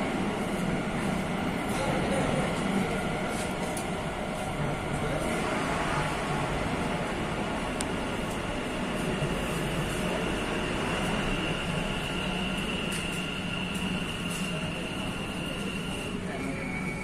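Kolkata underwater metro train arriving at a station platform, a steady low rumble and hum of the carriages with a faint high whine, steady throughout under light crowd murmur and speech.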